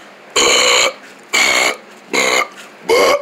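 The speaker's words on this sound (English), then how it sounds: "y'all burp like pigs" Several people burp after eating spaghetti: four loud, close belches, each about half a second long, separated by short pauses.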